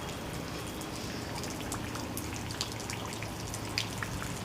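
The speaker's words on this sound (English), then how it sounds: "of the raindrops." Raindrops patter steadily on a rain day, a continuous field of small irregular drips and taps, close and moderately quiet, with no talking.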